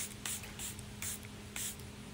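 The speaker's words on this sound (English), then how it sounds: "And then I finish off with some setting spray." Charlotte Tilbury setting spray misted from a pump bottle in three short hissing bursts spaced about half a second apart, close and fairly quiet, with no talk.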